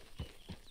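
Horse hooves in Red Dead Redemption 2, two soft clip-clop steps in quick succession, muffled and fairly quiet, with no talking.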